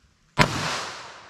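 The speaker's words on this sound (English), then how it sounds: "Let's hit that with our 22 Magnum." A single sharp gunshot from a .22 Magnum handgun fired at an MDF target, loud and close, with a sudden crack followed by a long, slowly fading echo and no talking.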